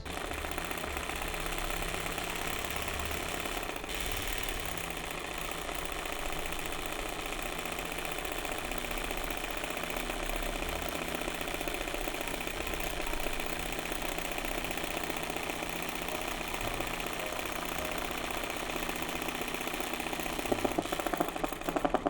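A sewing machine runs steadily while free-motion stitching zigzag embroidery of tropical birds, a continuous close mechanical whir with a fast stitching rhythm and brief changes in pace.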